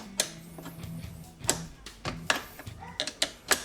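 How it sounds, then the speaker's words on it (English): Adjustable wrenches turn a nut down a bolt while a Suzuki Samurai seat is swapped, giving faint, irregular metallic clicks and ticks close by against quiet background. "Just hold the bolt in place and run that nut down."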